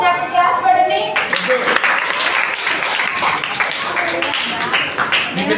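Children in a class clapping, a dense burst of applause that follows a spoken voice and continues steadily at close range.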